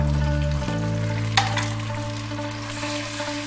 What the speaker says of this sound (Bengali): দিয়ে আমি একটু ফ্রাই করে নিচ্ছি